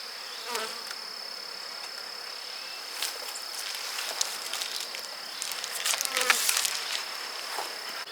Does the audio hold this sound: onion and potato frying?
no